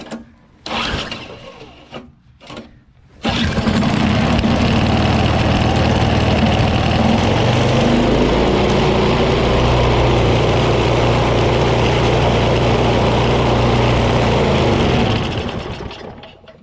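Gas snowblower engine pulled to start on full throttle with choke: a few short pull bursts, then the engine catches and runs loud and steady nearby for about twelve seconds before fading.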